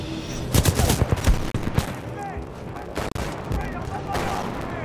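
Dense, rapid volleys of gunfire from a gun in Titanfall 2, with bursts of close shots crowding the first half and scattered further blasts after, set over busy combat noise.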